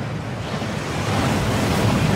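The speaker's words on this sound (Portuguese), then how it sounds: "A cachoeira lava todos os encantamentos." Rushing water of the Thief's Downfall waterfall in Hogwarts Legacy, a dense, steady roar with a slight swell partway through and no voices.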